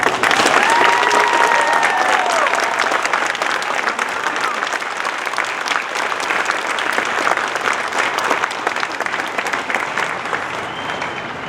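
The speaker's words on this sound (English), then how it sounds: "please join me in a round of applause for our newest American soldiers" Loud, sustained crowd applause for new soldiers at a basic combat training graduation at Fort Sill, Oklahoma, a dense continuous roar of clapping with scattered cheers and voices mixed in.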